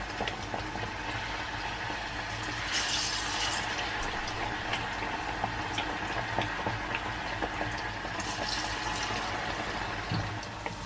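Plantain bananas frying in hot oil, a steady dense crackle and bubbling with occasional sharper pops, close and continuous throughout.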